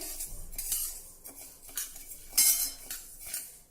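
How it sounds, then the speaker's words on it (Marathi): Rice grains being dry-roasted over a low flame and stirred in a kadhai, with repeated scraping and clinking of a metal spoon against the pan in an uneven rhythm, close and fairly loud, no speech. "आता मंद गॅसवर हे तांदूळ देखील आपल्याला छान तांबूस रंगाचे होईपर्यंत भाजायचे आहे"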